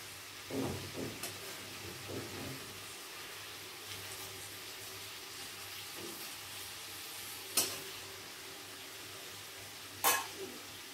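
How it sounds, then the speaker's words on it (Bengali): Fish fries in hot oil in a pan, giving a quiet, steady sizzle with a few soft spatters and two sharper pops near the end, and no voices. "মাছটা একটু সময় নিয়ে ভাজতে হবে, আর সাবধানে আর মাছটা ভাজবেন, কারণ আর মাছ থেকে তেল ছেটায়।"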